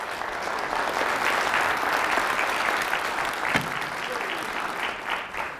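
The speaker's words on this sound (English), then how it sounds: "give yourselves a round of applause" Audience at a keynote event applauding, a dense sustained wash of clapping from a large crowd, steady and loud for several seconds before tapering slightly.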